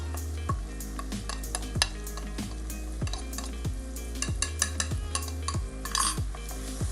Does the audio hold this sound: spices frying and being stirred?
yes